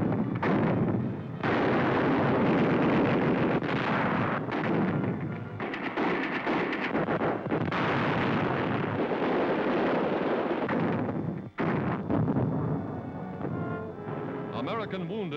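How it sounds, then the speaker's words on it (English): Artillery in a WWII newsreel of the Attu campaign in the Aleutian Islands, Alaska, hurls shells across mountain peaks: repeated loud booming blasts and rumbling fire fill the clip, with a narrator's voice over it. "Artillery hurling shells across the mountain peaks."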